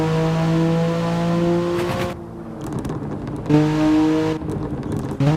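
A BMW E93 convertible revs hard during night-time drifting, its engine note rising and falling through sharp gear-change drops with crackling exhaust pops, loud and close throughout.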